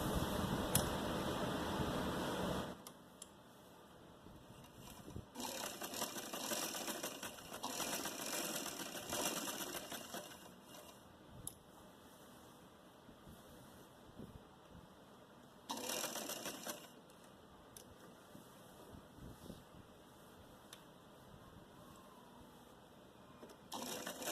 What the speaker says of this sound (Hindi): अब हम यहाँ से सिलाई शुरू करेंगे और यहाँ से घुमा के यहाँ पे ख़त्म करेंगे।